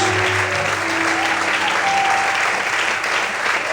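Church congregation breaks into steady, loud applause, a dense continuous patter of many hands filling the room, with a faint hum beneath.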